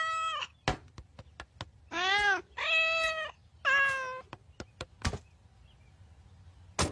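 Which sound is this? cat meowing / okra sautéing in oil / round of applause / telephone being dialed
cat meowing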